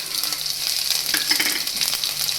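Cumin seeds, curry leaves and ginger paste frying in hot oil for upma, giving a bright, continuous crackling sizzle with small pops, close and steady throughout.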